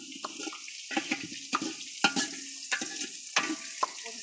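Spice paste frying in a pan for a meat dish, with a steady low sizzle broken by regular scraping stirs of a spoon, close and fairly loud, no talking.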